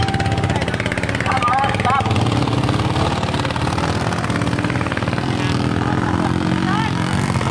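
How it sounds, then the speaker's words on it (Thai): A racing motorcycle engine drones steadily at an iron buffalo race at Wat Khlong Kao in Ayutthaya, loud and continuous, with constant announcer talk over it. "มาแล้วครับเจอมอไซซิ่งอีกแล้วครับ"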